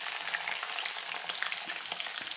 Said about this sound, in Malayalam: ഇതെല്ലാം കൂടി നന്നായിട്ട് ഇളക്കാവേ.